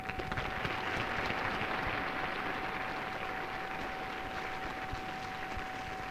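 A crowd at the 1977 Eurovision Song Contest applauds steadily as the conductor of the Italian entry walks out, a dense, even clapping that carries on throughout.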